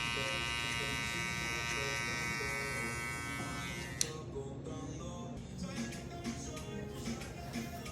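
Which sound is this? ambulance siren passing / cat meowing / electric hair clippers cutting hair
electric hair clippers cutting hair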